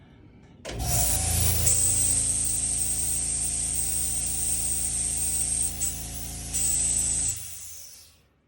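An electric disinfectant sprayer switches on and runs with a steady motor whine and high hiss for several seconds, briefly dipping once, then winds down and stops.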